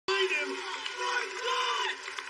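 An American Ninja Warrior crowd cheers and whoops loudly as an athlete fights through the final board obstacle, the roar starting abruptly and holding on throughout with a commentator's voice over it.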